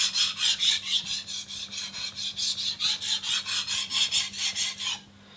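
A knife blade is rubbed back and forth on a Shapton Kuromaku 8000 whetstone, a steady rhythmic scraping of about twenty even strokes, close and clear, ending abruptly.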